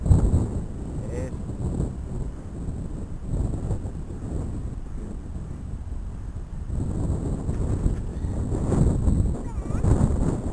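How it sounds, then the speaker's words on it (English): Strong wind buffets the microphone at a model airplane flying field in a constant low roar that swells and eases, with a voice faintly mixed in underneath. "It's too windy."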